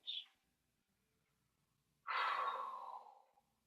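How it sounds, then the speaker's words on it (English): Breathing during a pilates mat exercise: a brief sharp intake at the start, then after a quiet pause a long, strong exhale that gradually fades, close and clear. "Breathing."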